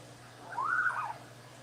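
A pet parrot gives one smooth, rising-then-falling whistled call lasting about half a second, clear and fairly close over a quiet indoor room hum.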